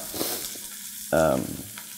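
Carrots, onions, green peppers and jalapenos sautéing in a pan, a quiet sizzle broken by a sudden loud burst of frying that fades over the following half second.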